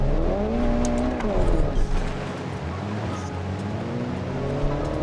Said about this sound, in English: The revving doesn't seem quite right.